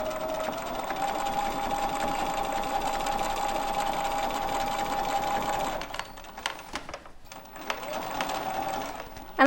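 Sewing machine running steadily while stitching straight quilting lines on a quilt-as-you-go block, a continuous mechanical hum for about six seconds before pausing and restarting briefly.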